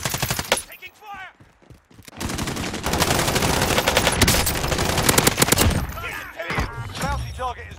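Automatic gunfire in Call of Duty Warzone: bursts of rapid shots fill the middle of the clip, loud and dense, with sparser shots and game voice effects before and after.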